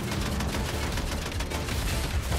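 Rapid cannon fire in Fortnite, a dense, continuous volley of loud, booming shots packed close together with no talk over it.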